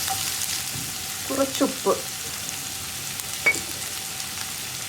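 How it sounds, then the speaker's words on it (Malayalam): Onions sautéing in a pan with curry leaves and salt for a spinach and lentil curry, a low steady sizzle with a few stirring clatters near the middle, and a brief spoken word. "ഇനി സവോള നന്നായിട്ടൊന്ന് വഴറ്റിയെടുക്കുക."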